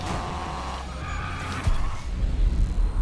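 A 2002 Nissan Silvia Spec R drifting, engine droning and tires scrubbing, then a loud surge of skidding rumble as the car slides past nearby, heavy and continuous toward the end.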